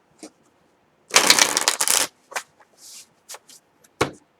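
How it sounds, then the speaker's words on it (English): Crisp riffling bursts of tarot cards being shuffled, one long shuffle followed by several short snaps and taps, close up with no talking. "I'm just going to shuffle the tarot real fast"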